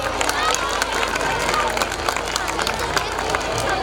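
Dense crowd applause at a prize distribution function, steady clapping with cheering and murmuring throughout, loud and close.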